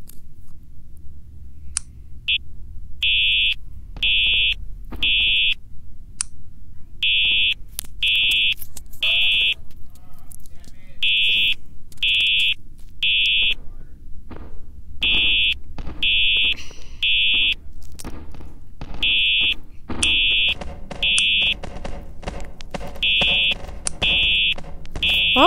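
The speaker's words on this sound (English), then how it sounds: "I think someone put the fire alarm, or is this just a test?" A fire alarm sounds in repeated bursts of three shrill beeps, steady and loud, with scattered clatter and movement in between.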